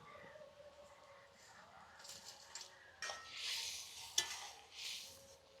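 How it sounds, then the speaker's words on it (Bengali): Fried puti fish dropped into a simmering spiced masala set off soft sizzling and scraping stirs in the pan, faint at first, then louder bursts of sizzle with a sharp utensil clink. "মশলাটা ফুটছে, ভাজা মাছগুলো দিয়ে দিচ্ছি।"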